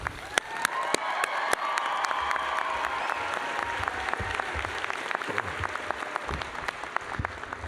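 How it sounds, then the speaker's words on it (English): A commencement audience at the College of Veterinary Medicine's 2024 ceremony claps steadily and loudly in a sustained round of applause, with a few sharp individual claps standing out and little talk. "Another round of applause for her."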